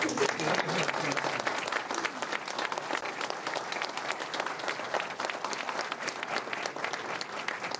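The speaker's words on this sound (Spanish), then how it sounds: "Quiero pedir un aplauso para él, por favor." Sustained audience applause for a lecturer at a regional public conference in Piura, Peru, a dense, even crackle of many hands clapping for nearly eight seconds, fairly loud and continuous with no speech over it.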